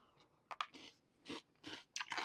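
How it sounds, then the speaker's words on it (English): Close, crisp crunching of cereal being chewed in several quick bursts with short pauses between bites, no talking. "that crunch is super solid"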